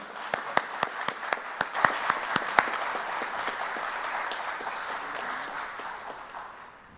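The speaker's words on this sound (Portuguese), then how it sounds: "Uma salva de palmas para Magali." Audience applause for a speaker at a Spiritist lecture on madness, opening with a few sharp separate claps that swell into steady, dense clapping from the crowd and then slowly fade, with no talking over it.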